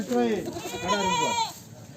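A goat bleats loudly up close at a goat market, two wavering cries in quick succession, the second drawn out before fading.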